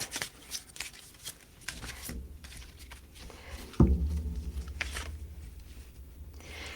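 Cards are shuffled in quick soft riffles, followed by a sharp bridge-like burst and a longer rustling cascade, close by.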